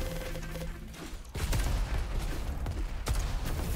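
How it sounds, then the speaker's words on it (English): Ricochet gun shots in the Diabotical arena shooter crack sharply in the game, with a couple of distinct loud bursts standing out from a dense wash of constant game noise and effects. "The ricochet shots don't hit anything."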